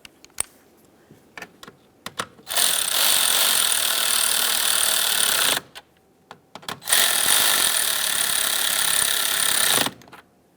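Two long bursts of steady, rapid ratcheting on idle air control valve bolts on a 2002-2005 Ford Explorer, each a few seconds long, close and loud, with a few sharp clicks between them.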